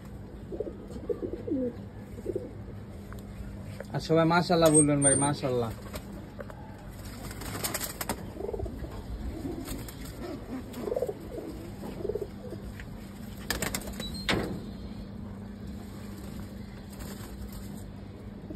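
Pigeons at a pigeon market in Old Dhaka coo softly through the clip, with a voice speaking loudly in the middle and a steady low hum underneath.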